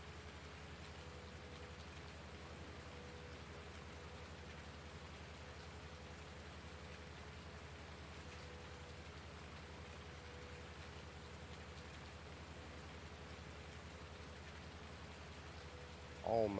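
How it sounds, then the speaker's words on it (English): Rain falls in the Farming Simulator 19 video game as a steady, soft, even hiss with a faint low hum underneath, continuing unchanged for over fifteen seconds. "Luckily, I got the harvest in before it started raining."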